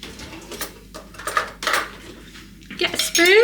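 Metal spoon clinks and scrapes against dishes and a jar of pasta sauce while assembling tortilla pizzas in a home kitchen, a few sharp uneven knocks and rattles, close and fairly loud.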